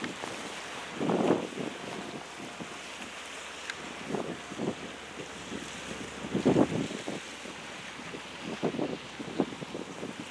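A ferry moves on the water near mountains as wind buffets the microphone in repeated gusts over a low, faint wash of water and engine.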